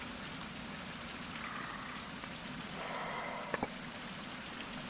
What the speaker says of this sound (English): Oh, and it's still raining.